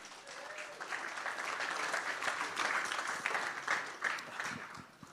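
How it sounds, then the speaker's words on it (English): A seated audience at a builders' business talk bursts into sustained applause, a dense wash of many hands clapping that swells, holds steady for several seconds and then thins out near the end. "So please give a round of applause."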